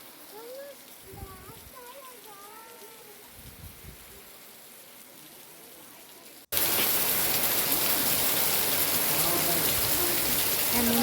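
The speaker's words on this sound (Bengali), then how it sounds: "দেখো এখন বুঝতে পারছো তো যে বৃষ্টিটা কি হারে হচ্ছে" Heavy cyclone rain falls steadily, first as a softer patter with a voice speaking, then suddenly as a loud, dense roar of downpour close by.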